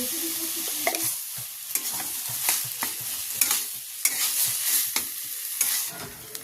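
Spices and ground cumin being stirred and tossed in a hot pan while cooking cauliflower paratha filling, with a steady sizzle and repeated sharp scraping clicks of the spoon against the pan, close and alone.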